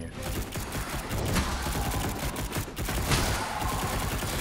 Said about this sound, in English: Oh, there's another like freaking machine guns.